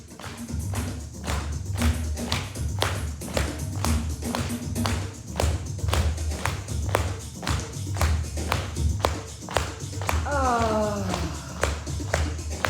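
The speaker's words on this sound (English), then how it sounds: "Now let's use our hands and clap your hands on your thighs" Hands slapping on thighs during a kriya breathing session at a retreat, a steady, evenly paced rhythm of sharp slaps continuing for the whole stretch, with a low hum beneath and a brief vocal sound near the end.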